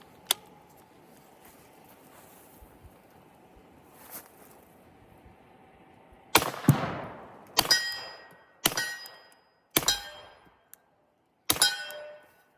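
Suppressed Sig P365XL pistol firing 147 grain rounds: one early sharp report, then five loud, close shots at roughly one-second intervals, each followed by a brief metallic ring, with no talk.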